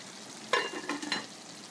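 Chicken cooking in a pot for biryani, sizzling and being stirred in short scraping bursts, a few brief clusters of frying noise rising over a quiet background.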